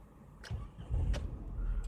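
A Peugeot 108 engine turns over and catches, followed by a low, rough idle heard close and fairly quiet, with a few faint clicks.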